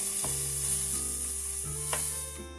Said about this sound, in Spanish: Mezclamos y dejamos cocinar esto a fuego medio aproximadamente unos 10 minutos o 15.